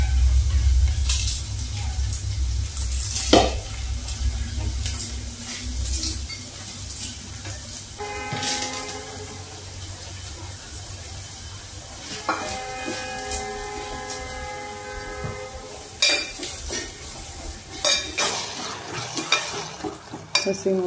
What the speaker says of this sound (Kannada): ಒಗ್ಗರಣೆ ರೆಡಿ ಆಯ್ತು